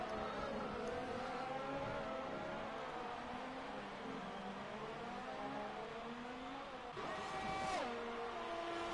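High-pitched F1 car engine in a racing video game, held at a steady loud whine with rising and falling revs throughout and a sharp sweep near the end, with several cars overlapping.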